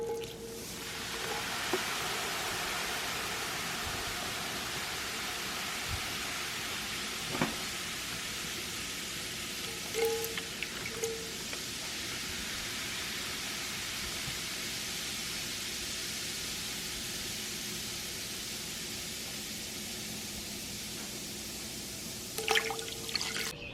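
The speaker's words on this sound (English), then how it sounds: "it sure won't hurt the pot to have all that bubbling going on" White vinegar and soap fizz and bubble inside a cast iron pot, a steady soft hiss of tiny popping bubbles with occasional faint drips, continuous and fairly quiet throughout.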